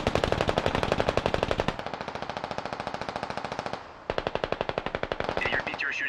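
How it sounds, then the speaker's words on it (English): In a video game, a BTR armoured vehicle fires on a building with long, rapid bursts of heavy automatic gunfire. The shots come fast and evenly spaced, with a short pause partway through before firing resumes, and faint voices sound near the end. "your BTR is shooting the right building"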